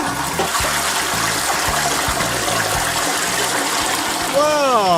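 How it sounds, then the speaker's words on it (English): A toilet flushes in a loud, rushing surge of water that swirls and gurgles, ending in a rising whistling refill tone, with some background speech-like clutter underneath. "We've been getting great Flushing action."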